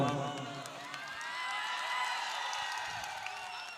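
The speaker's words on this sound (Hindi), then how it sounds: "आपकी तालियों का शोर जाना चाहिए दिल्ली तक।" Large outdoor crowd at a Haryana election rally cheering and applauding, a broad wash of claps, shouts and whistles, steady and moderately distant.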